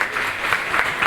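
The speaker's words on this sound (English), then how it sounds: "I request all of you to give a round of applause, please." Brief burst of audience applause at a breast cancer awareness program held at Dabolim Airport, dense hand clapping swelling in small waves, close and fairly loud.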